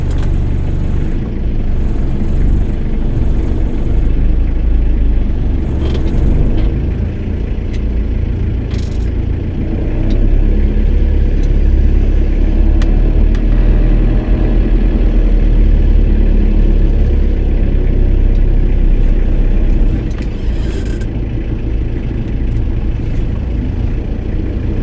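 Nissan car engine running steadily after a repair, a continuous low rumble with slight rises in load, close and fairly loud with no talking.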